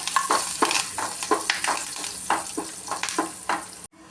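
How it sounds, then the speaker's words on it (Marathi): Curry leaves crackle and sizzle in hot oil over fried garlic for a masala potato dish, with steady frying hiss and repeated sharp pops and stirring scrapes, close and fairly loud, cutting off just before the end. "त्यामध्ये आता आपण एक कढीपत्ता टाकूया."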